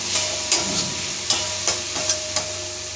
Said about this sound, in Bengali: তারপরে দেবো চালমগজ বাটা, কাজু বাটা আর দই দিয়ে একটু নাড়ি, একটু কষিয়ে নেব